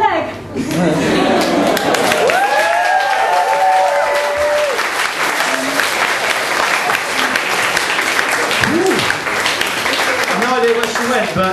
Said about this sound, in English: give a round of applause to Lydia and of course Leo, ladies and gentlemen